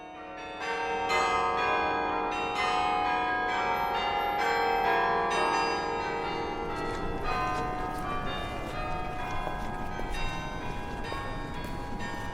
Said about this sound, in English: the iconic 85-foot tall Carillon Bell Tower